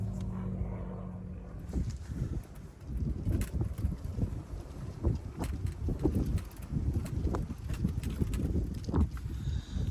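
Wind gusting outdoors beside a lake during a carp fishing session, a loud, steady low rumble of buffeting air that rises and falls continuously without talk.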